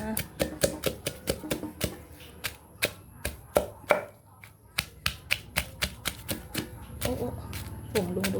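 Garlic with seasoning powder and salt pounded in a mortar, a steady series of sharp knocks repeating at a quick, even rhythm, close and fairly loud, with faint background voices.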